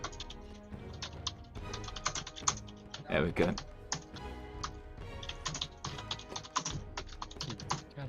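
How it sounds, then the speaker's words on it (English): Rapid, energetic typing on a computer keyboard, a close, dense clatter of keystrokes that runs throughout while someone speaks briefly over it. "Passionate typing."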